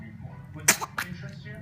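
A person sneezes once, a sudden sharp burst with a quick second exhalation, close by and heard under a voice talking.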